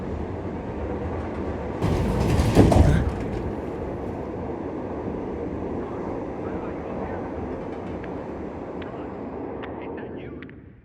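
A train in the video game Dying Light 2 rumbles steadily throughout, with a louder burst of clatter and hiss early on and a few metallic clicks later. Voices are faintly audible over the running train.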